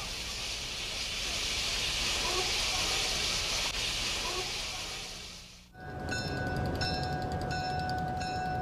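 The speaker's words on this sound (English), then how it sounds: "Challenger 3985 is emerging from the shop building in Cheyenne, Wyoming." Union Pacific Challenger 3985 steam locomotive emerging from the shop building in Cheyenne, Wyoming, giving off a steady, loud hiss of steam that cuts off sharply, followed by a ringing, tonal mechanical sound.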